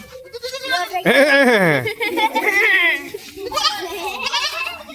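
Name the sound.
pet animal named Tiger bleating like a goat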